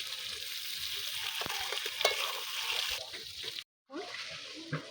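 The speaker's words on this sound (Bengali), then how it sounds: "এটা বেশি জোরে নাড়ানো যাবে না, আস্তে আস্তে নাড়তে হবে।" Chicken do pyaza frying in a pan while being stirred slowly and gently, a steady close sizzle with soft scraping strokes running through it and a brief drop to silence near the end.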